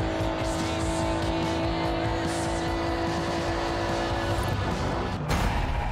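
Race car in Forza Horizon 5 roaring past the finish at over 300 km/h, a loud steady engine drone with high whine, slight tire noise and a brief burst near the end.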